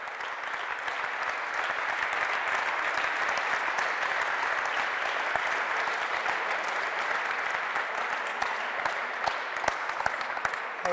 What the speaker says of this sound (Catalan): Un fort aplaudiment, sisplau, per Sama.